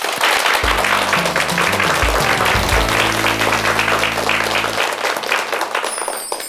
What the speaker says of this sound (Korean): 박수로 청해 듣겠습니다